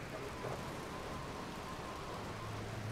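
Steady rain falls in the GTA III game world, a dense, even hiss of drops on surfaces lasting the whole moment, with a faint low rumble underneath.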